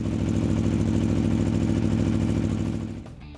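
Aprilia Tuono V4 1100 naked motorcycle with its V4 engine running at a steady, loud, close throb that holds even before dropping away near the end.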